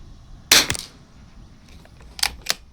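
Savage Mark II .22 LR rifle firing ELEY Match ammunition at a range, a sharp close crack with a short tail, followed later by two fainter quick reports.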